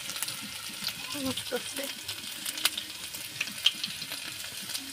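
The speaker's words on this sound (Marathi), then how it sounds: "गरम झाले का तेल ओतून घेते आणि आलं लसूण टाकून घेते त्याच्यामध्ये" Ginger and garlic frying in hot oil for a chicken dish, a steady close sizzle with light stirring clicks, while someone talks over it.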